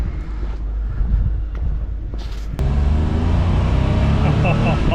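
A 1985 Porsche 911 barn find engine warms up in a workshop with a close, low, steady rumble that grows fuller and louder partway through, mixed with some wind buffeting.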